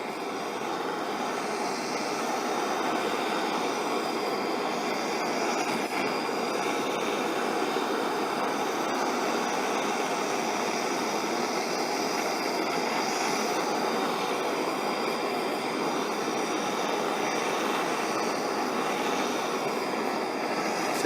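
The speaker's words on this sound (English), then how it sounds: "I'm just going to start increasing the gas a bit, and it's going to get a bit loud as well" A gas torch heats gold powder with a loud, steady roaring rush that holds near and constant throughout, and no speech.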